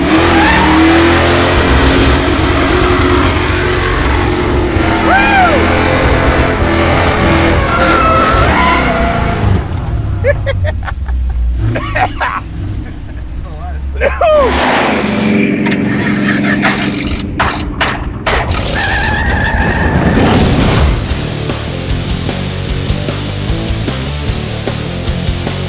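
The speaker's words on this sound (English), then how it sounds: "Now burnouts." A 1969 Pontiac Firebird does loud burnouts, its engine roaring and revving hard while the tires squeal and screech in long, wavering bursts. The sound stays close and intense throughout, with a brief dip midway.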